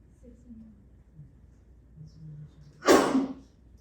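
A single sudden sneeze bursts out in a quiet classroom, loud and close, following a few seconds of faint low murmuring.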